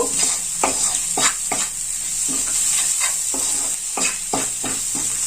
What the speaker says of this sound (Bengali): এবার এটাকে আমি ভালো করে নেড়ে কষিয়ে নেব।